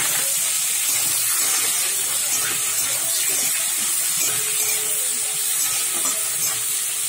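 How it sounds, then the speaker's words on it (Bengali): Chopped onion fries in oil with cumin and a bay leaf, a loud, steady, close hiss of sizzling that holds without a break, with faint stirring underneath. "পেঁয়াজটা ভেজে নেবো।"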